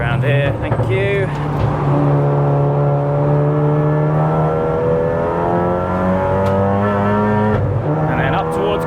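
A 500+ BHP big turbo MK7 Golf R track car on the Nurburgring accelerates hard through the gears, its engine note climbing steadily, loud and close from inside the cabin.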